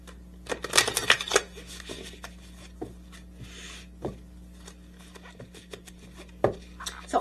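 Healing oracle cards being shuffled and drawn by hand: soft papery riffles and flicks, a dense flurry early on, then sparse light taps and slides, close and quiet with no talking.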